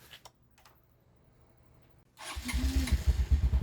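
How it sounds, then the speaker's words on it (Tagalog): A motorcycle engine, still running poorly after aftermarket part replacements, cranks and catches, then runs with a loud, rough, sputtering idle after a couple of seconds of near quiet. "Pandarin natin makina. Ito ay yung motor niya. So, papandarin ko."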